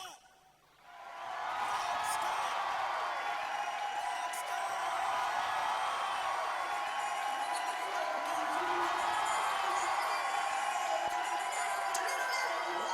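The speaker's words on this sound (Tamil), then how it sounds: "உங்களுடைய கைத்தட்டல் விசிலோட அவரை வெல்கம் பண்ண போகிறோம்" A large launch-event crowd cheers, whoops and whistles to welcome Anirudh. The loud, dense roar swells within the first second and holds steady, with applause mixed in.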